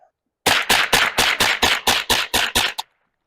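A suppressed rifle fires a quick string of about ten evenly spaced shots, loud and close, each a sharp muffled crack ending abruptly.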